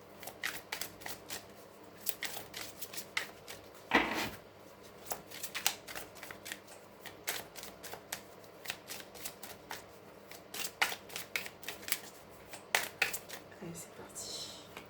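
Tarot cards shuffled and dealt out in a spread of nine, with many quick crisp riffles and snaps close by and a sharper flurry near the start, in a quiet room.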